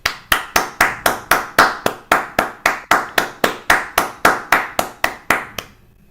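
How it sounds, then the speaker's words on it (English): At an online youth debate competition, a single nearby person claps in a fast, regular rhythm of about twenty crisp, loud claps that then stop abruptly. No one speaks. "let's give them one more round of applause"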